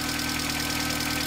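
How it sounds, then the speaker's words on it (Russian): A Renault car engine fitted with a carburetor idles steadily, a smooth even hum with a faint regular ticking pulse, close and continuous with no talk. "Мужики, вы посмотрите, не шелохнется мотор."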